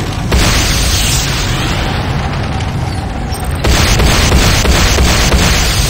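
Loud, sustained explosion roar as a Nod airstrip building is destroyed in Renegade C&C, a dense rumbling blast filling the whole stretch with a second surge partway through.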